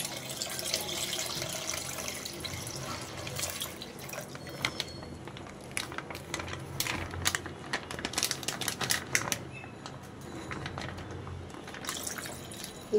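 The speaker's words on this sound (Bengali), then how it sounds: "এই পর্যায়ে এসে আমি দুধ ঢেলে দেব।" Milk is poured into caramelized sugar in a pan, a continuous soft trickling and dripping of liquid with scattered small splashes, fairly quiet and steady throughout.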